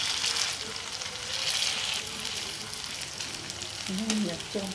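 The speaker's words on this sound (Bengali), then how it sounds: "আমি এখন উল্টে আরও 1 পিঠটা ভেজে নিচ্ছি" Soybean fritters (bora) frying in oil as they are flipped to cook the other side, a close steady hiss and crackle with soft stirring noises and a brief murmur near the end.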